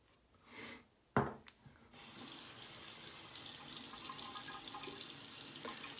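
Water runs from a bathroom tap while a razor is rinsed under it, opening with a couple of quick splashes and knocks, then settling into a steady moderate hiss.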